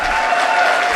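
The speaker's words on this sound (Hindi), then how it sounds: "तो एक बार लड़कों अपने लिए तालियां बजा दीजिए।" Audience applause at a Hindi kavi sammelan comedy poetry show, a dense, steady burst of clapping from a crowd lasting about a second, loud and continuous without talk.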